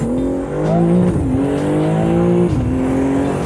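A Lamborghini sports car engine revs hard and accelerates, pitch climbing steadily and dropping briefly at each gear change. It is loud and close, with no talking.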